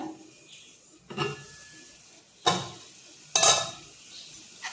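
Onion and tomato cook in oil in a covered pan for a Malvani-style egg chutney, with a soft low sizzle broken by a few sharp, close metallic clinks of a lid and utensils.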